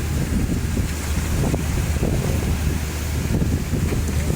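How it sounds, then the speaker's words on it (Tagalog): Strong wind buffets the microphone on a boat at sea during a southwest monsoon, about four miles offshore, with a steady roar and low rumble of water and engine continuing throughout, loud and unbroken, with no talking. "Umiihip ang hangin."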